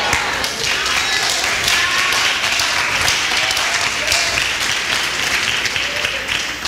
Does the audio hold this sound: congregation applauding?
yes